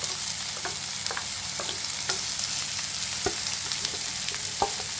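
Snake gourd pieces and green chilies fry in hot oil with a steady sizzle, and a utensil stirs them in a few scattered scrapes and clinks.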